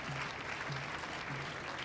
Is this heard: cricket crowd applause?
yes